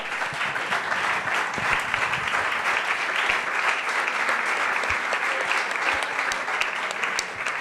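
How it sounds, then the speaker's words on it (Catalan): A seated audience at a book presentation claps in honor of Xavier Gual, a continuous full round of applause with scattered sharper hand claps standing out, steady and sustained throughout. "per acabar l'aplaudiment del Xavier"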